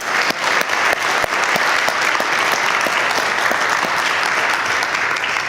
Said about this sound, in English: So I just ask you to please give our adult leaders a round of applause.